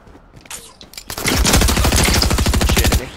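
Fortnite gunfire bursts in after a few scattered shots: a loud, close, rapid stream of automatic rounds that holds for nearly two seconds before cutting off.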